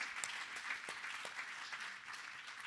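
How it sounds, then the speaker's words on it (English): Audience clapping steadily for a panel at a museum symposium, a dense, even patter of many hands from start to finish with no voices over it. "Let's clap for this panel."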